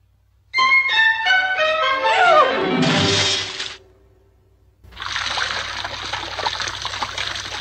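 Water trickles and splashes in a steady, moderately loud stream that follows a short burst of falling cartoon-like tones and a brief pause.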